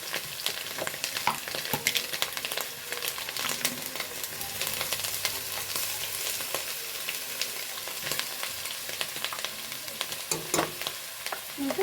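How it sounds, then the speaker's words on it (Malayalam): Ginger, garlic and green chillies sauté in hot oil for a Kerala chicken roast, giving a steady, dense sizzle throughout with scattered scraping clicks of a spoon stirring the pan. "നല്ലോണം ഒന്ന് വഴറ്റുക കേട്ടോ. നല്ലോണം ഒന്ന് വഴറ്റിയെടുക്കട്ടെ."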